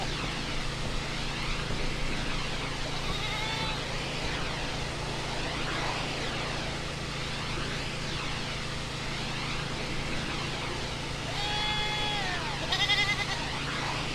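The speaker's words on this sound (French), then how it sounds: "Apparemment ça marche de laver la chèvre." Goat bleating in the video game Airport Renovator while it is pressure-washed, repeated wavering bleats over a constant hiss of the washer spray, no talking.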